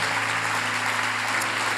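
A church congregation applauding during a sermon, a steady wash of clapping at moderate level throughout with a low hum beneath, no voices standing out.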